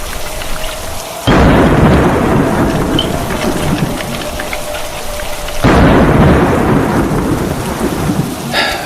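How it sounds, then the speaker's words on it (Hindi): Heavy rain pours steadily as a cartoon sound effect, loud and close, broken by two sudden crashes of thunder that roll into long rumbles under the downpour, with no voices. "ये बारिश रुकने का नाम ही नहीं ले रही।"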